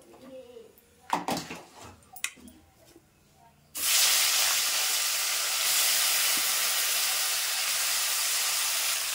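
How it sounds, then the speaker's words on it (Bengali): Broccoli hits hot oil in a pan with an abrupt, loud, hissing sizzle that then holds steady, after a few seconds of utensil clatter and handling noises. "এবার ব্রোকলিটাও আমি সুন্দর করে ভেজে নেব।"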